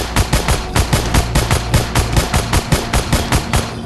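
Machine gun fire in the zombie survival game Dawn of Zombies Survival, a loud, close, rapid rhythmic burst of evenly spaced shots continuing without pause.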